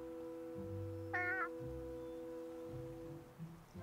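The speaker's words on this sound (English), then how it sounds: "Is Grey Malkin my cat?" A cat in the video game Wylde Flowers gives a single short, clear meow partway through, set over steady soft background game music.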